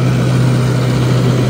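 A 50 hp farm tractor fitted with a turbo upgrade runs close by at a steady idle, giving a loud, continuous low engine drone with no breaks.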